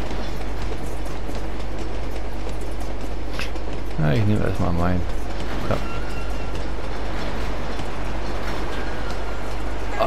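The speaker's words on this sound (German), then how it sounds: "Alter, wie lang ist denn noch der Zug?" Train rolling along tracks in the video game Uncharted 2, a continuous loud rumbling clatter throughout, with a voice briefly speaking over it midway.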